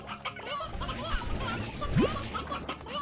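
Chickens clucking while being fed in the video game Slime Rancher, several close clucks and squawks over a busy game backdrop, with no talking.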